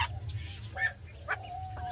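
A few short, faint nasal quacks from a call duck, a brooding hen, come in quick separate bursts against a quiet low hum.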